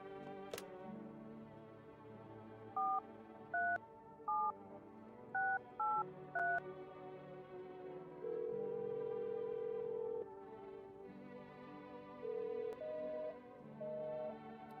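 A telephone in a video game: a run of about six dialed touch-tone digits, followed by steady dial-tone and ringback-style tones, over quiet background music.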